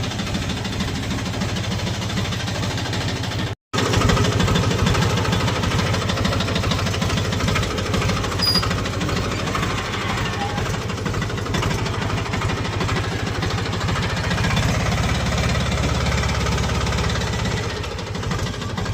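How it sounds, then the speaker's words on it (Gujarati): Tractor engine running steadily at a farm, a loud, continuous knocking idle with heavy vibration that cuts out for a split second before resuming. "ટ્રેક્ટરમાં ચાલુ કરું ભાઈ, આપણે જવાનું વાડીએ"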